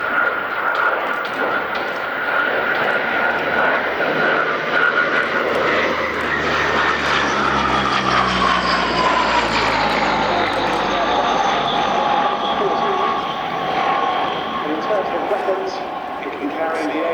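A French ATL2 Atlantique maritime patrol aircraft drones with a loud, continuous turboprop engine roar whose pitch slowly shifts as it passes. The roar stays steady throughout.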